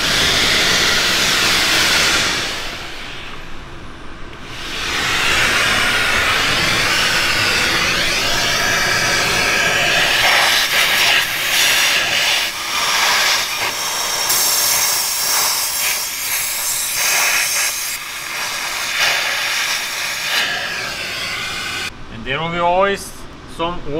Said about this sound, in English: I'm going to turn on the vacuum cleaner, and I'm going to show you how much time it's going to take to clean one of the ports